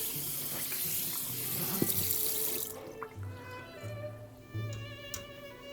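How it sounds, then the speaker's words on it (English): A tap gushes steadily into a bowl as rice is rinsed, a loud continuous splash for a few seconds before the water cuts off, leaving faint ticks and small drips. "The reason for rinsing rice is to make sure to take as much of the starch off as"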